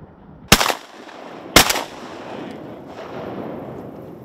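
Two loud shotgun blasts about a second apart ring out close by during a teal duck hunt outdoors, each followed by a short echo and then quiet ambient noise.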